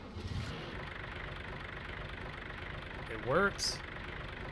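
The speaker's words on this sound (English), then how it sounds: "It's one of the most unique double motor tractors I've seen around." A double-motor tractor in Farming Simulator 19 idles with a low, steady engine drone throughout, while someone talks over it briefly.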